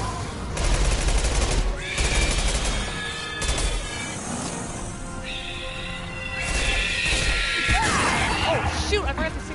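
Mass Effect 2 combat with crawler creatures exploding amid heavy gunfire: dense bursts of shots, blasts and crashing impacts fill the whole stretch, loud and close, with someone speaking over the action.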